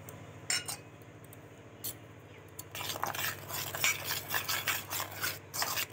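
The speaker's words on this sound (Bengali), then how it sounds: "ভালো করে আমি মিক্স করে নেব।" Henna paste is mixed with soaked tea-leaf water in a bowl. Scattered scrapes give way to steady rhythmic rubbing and scraping strokes against the bowl, heard up close and without talk.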